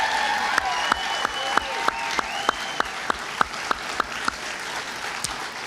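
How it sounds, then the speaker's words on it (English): Applause at an awards ceremony honoring community leaders, clapping heard in a room with a few sharp, evenly spaced louder claps standing out over a softer background wash. "One more round of applause on behalf of all 17 of our honorees"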